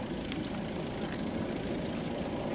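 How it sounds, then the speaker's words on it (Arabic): A military warplane flies over the city of Idlib, producing a continuous, fairly faint broadband engine roar that hangs steadily overhead without any clear rise or fall. "في طيارة حربية غير هاي"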